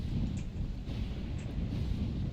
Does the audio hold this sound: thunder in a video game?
yes